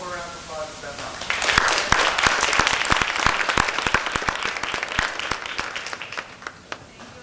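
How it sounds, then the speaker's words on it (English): A round of applause at a board of education meeting: after a brief moment of speech, many hands clap in a dense, steady burst that slowly thins out, with a few scattered late claps near the end. "But one more round of applause for Beth Hoffman."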